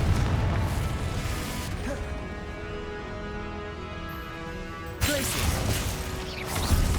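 In the video game Hogwarts Legacy, Confringo blasting spells go off as loud, full-range explosive bursts, one after another with a sustained rumbling tail between impacts.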